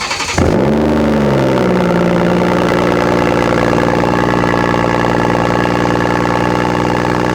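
A 2017 BMW 540i with the B58 engine and a catback exhaust idling close by: a brief blip at the start, then a steady, deep, even rumble that holds loud throughout.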